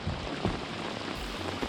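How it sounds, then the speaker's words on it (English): Torrential downpour during a lake fishing trip for smallmouth bass, a dense continuous hiss of heavy rain pelting surfaces close by, steady and loud throughout with scattered heavier drop impacts. "it is just downpouring right now"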